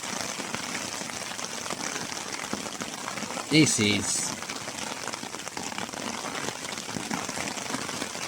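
Steady rain patters continuously on the surface by a big river while out pike fishing, a dense hiss throughout, with a brief spoken voice breaking in near the middle.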